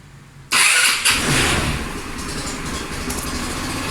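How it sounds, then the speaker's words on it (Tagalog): A Motorstar Easyride 150N motorcycle engine starts abruptly after a brief quiet lead-in, catches with a second surge, then settles into a steady, close mid-pitched idle. "This time, buhay natin ang makina."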